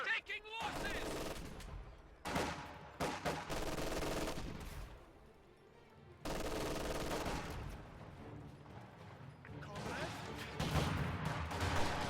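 MG42 machine gun fire in a World War II strategy video game, long rattling bursts mixed with explosions and battle din, loud and dense with brief lulls between volleys.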